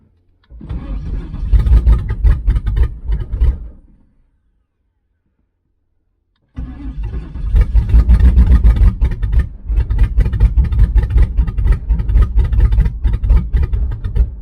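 A 1996 Pontiac Trans Am V8 with a bad misfire is cranked and starts, then runs loud and lumpy, choppy and uneven. The engine cuts out for a few seconds, then restarts and keeps stumbling, close to the microphone.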